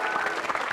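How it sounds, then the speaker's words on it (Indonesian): Applause from the studio audience of an Indonesian TV comedy show. A brief, dense burst of clapping is heard close up and fairly loud, steady throughout, with no voice over it. "Oke, beri tepuk tangan dulu, ya"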